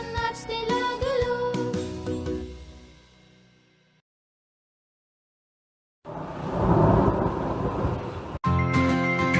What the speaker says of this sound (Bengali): বৃষ্টি এলো ছম ছম ছম